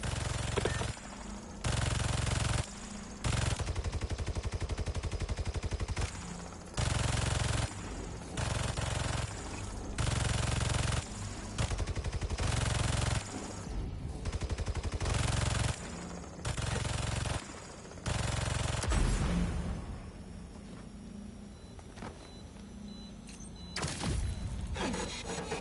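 Turret gunfire in the video game Marvel's Spider-Man 2, rapid automatic bursts in repeated blocks of a few seconds each, loud and harsh, separated by short pauses, with a quieter stretch of noise near the end.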